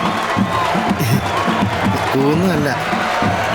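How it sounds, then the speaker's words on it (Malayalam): A sports crowd at a football match roars and cheers continuously, a dense steady wash of voices with whoops rising over it, while someone speaks in the foreground. "ആർപ്പുവിളികളാ"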